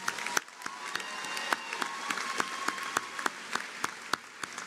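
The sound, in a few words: commencement audience applauding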